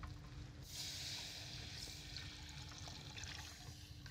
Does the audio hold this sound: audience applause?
no